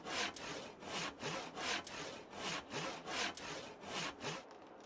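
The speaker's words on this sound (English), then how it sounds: "It's not like the normal chainsaw sound. It is actually the sawing of the wood." A chainsaw cuts through wood in the farming game Farming Simulator 22, heard as steady, rhythmic rasping strokes, about eight in a row, loud and close, cutting off abruptly at the end.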